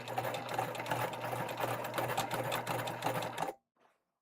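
A sewing machine top-stitches through thick seams on a fabric tote with a fast, even, close-up mechanical whir. It then stops abruptly, and a brief quiet knock follows.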